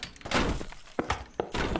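Bombs exploding on a house, apparently in a video game: a series of four or five short, heavy impacts with crashing, shattering edges, loud and close and spaced unevenly.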